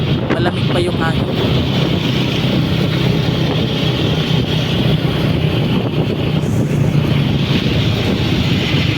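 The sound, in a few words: wind during bike race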